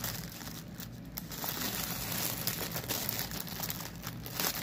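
A puffy bag is opened and crinkled up close, giving a continuous rustling, crackling texture that runs without a break for several seconds, with no talking.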